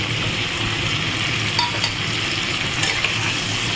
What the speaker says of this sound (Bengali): এবার আমি ইলিশ মাছের মাথাটাকে দিয়ে দিচ্ছি